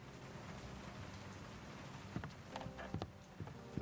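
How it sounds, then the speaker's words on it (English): In the World of Goo 2 video game, rain patters against an office window in a faint steady hiss, with scattered drops ticking harder toward the end. "The rain beats against the office window."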